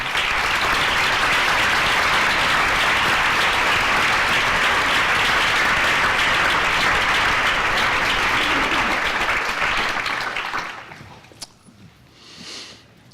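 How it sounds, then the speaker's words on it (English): Sustained applause from an audience at a climate change event, honoring standing honors staff, loud and dense for about ten seconds, then thinning out to a few scattered claps and quiet. "would you please stand so we can give you an applause and thank you for the work that you do"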